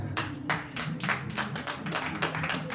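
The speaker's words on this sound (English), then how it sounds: "Clap for Jesus." Church congregation clapping in a steady rhythmic beat, sharp repeated claps at roughly half-second intervals, moderately close and without speech.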